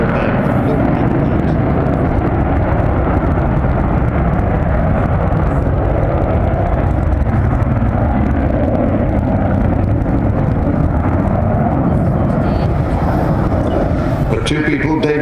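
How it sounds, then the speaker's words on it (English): Avro Vulcan bomber flying at the Farnborough Air Show, a loud, continuous low jet roar that fills the whole stretch, steady and powerful with a slight rise near the end, with a commentator talking over it. "nobody thought we'd ever see a Vulcan fly again"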